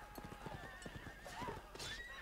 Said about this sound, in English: Benny, your horse died.